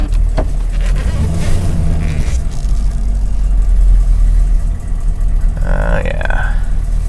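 A 1994 Chevy 6.5 turbo diesel truck rumbles low and steady as it is driven slowly, close by, with a person talking over the engine.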